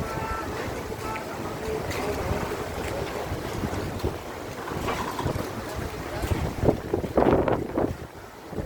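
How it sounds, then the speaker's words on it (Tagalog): Strong sea waves surge and wash against the shore at Boulevard Molo in Iloilo City, a continuous churning roar buffeted by heavy wind noise, swelling louder near the end. "Ang lakas ng alon"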